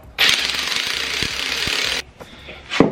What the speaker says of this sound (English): I'm gonna take the impact and I'm gonna just tighten it down